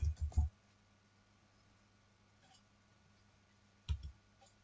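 A computer mouse being clicked while drawing in CAD software: a few soft quick clicks at the start, a faint one in the middle, and another short pair near the end, over a quiet background.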